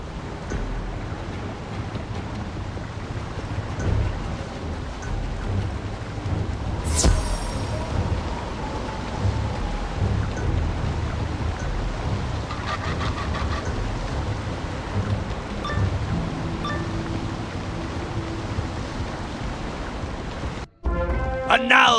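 A thunderstorm in the Wizard101 game, with steady rain and a low rumble of wind, a sharp thunder crack about a third of the way in, and a narrating voice over the storm.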